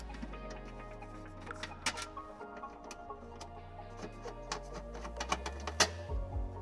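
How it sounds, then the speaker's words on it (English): Small T20 Torx fasteners being driven out of the plastic rear fascia and heat shield on a 2020-2023 Porsche Cayenne, giving irregular close clicks and ticks over a steady low hum, growing busier toward the end. "we're going to remove 4 T20 Torx fasteners, securing the fascia to this heat shield"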